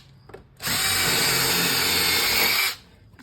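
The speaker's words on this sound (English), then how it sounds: "Pre-drill our 3 holes." A power drill pre-drills holes in a door jamb while an EMCO/Andersen 200 series storm door is installed, spinning up loudly after a brief pause, running steadily for about two seconds, then winding down.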